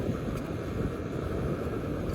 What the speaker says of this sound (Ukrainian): Вітер, правда, сильний.